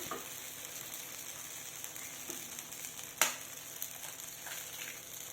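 Chopped onion sizzles steadily in a hot pan in a home kitchen while egg dosa is being made, a constant close frying hiss with a few small pops and crackles and no talking.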